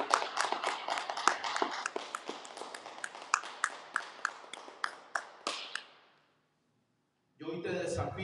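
Applause from a church congregation giving thanks to the Lord, a dense patter of claps lasting about six seconds before fading into a brief silence, then a voice resumes speaking.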